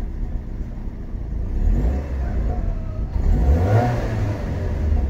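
A car that has just had its fuel pump replaced is revved near the listener, the engine note swelling and rising over a steady idle, with no voices.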